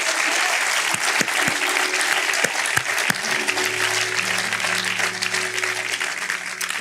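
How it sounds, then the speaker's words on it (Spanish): Congregation clapping during a church service, steady dense applause with sharp individual claps standing out, loud and close, holding throughout with a faint murmur of voices underneath. "Dale un aplauso al Señor"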